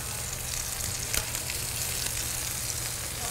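Food sizzles steadily in a hot pan as pieces are flipped, a dense, constant frying crackle heard up close, with one brief scrape partway through and no talking.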